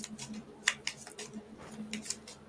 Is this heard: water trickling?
no